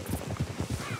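Quick, rhythmic hoofbeats come from a horse in the video game Red Dead Redemption 2, several soft clip-clop thuds in a brisk gait, close and fairly quiet.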